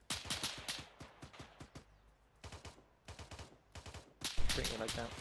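Arma 3 gunfire in clustered bursts of sharp automatic shots, with gaps between volleys and a loud, close burst at the end, over quiet outdoor game ambience.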